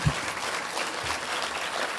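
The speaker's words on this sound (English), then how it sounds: "How about a round of applause for our entrepreneurs?" Conference audience applauding a panel of entrepreneurs, a full and even burst of clapping from a crowd, sustained throughout a couple of seconds with a few low thumps underneath.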